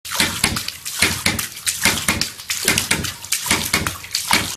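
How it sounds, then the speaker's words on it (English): Water runs from a musical household tap with a pulsing, repeated tonal singing, swelling and fading in a steady rhythm of about one beat per second, loud and close, with no voices. "We've got a nice musical tap."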